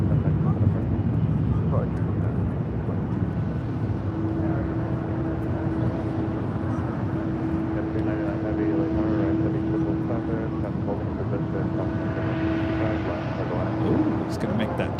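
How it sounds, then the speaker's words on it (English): A United Airlines Boeing 777-200ER taxis at LAX, a steady low jet-engine drone holding throughout at moderate distance, with a faint whine on top and people talking nearby. "This is United Airlines flight 667 coming from Dulles, and there's 777-200 ER."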